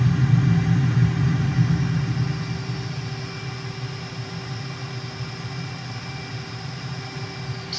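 A Su-57 Felon jet in Microsoft Flight Simulator roars with a steady, heavy low drone that is loudest at first and eases slightly, then holds a constant rumble with no talk.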